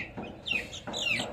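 An ornamental chick clucks during vaccination, giving a few short, bright, close calls with light handling noise underneath.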